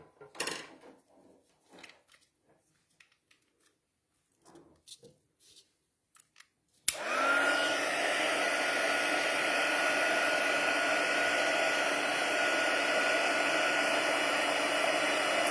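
Heat tool blowing hot air over embossing powder for heat embossing, switching on abruptly after a stretch of soft handling noises and then holding a loud, steady whooshing whir to the end.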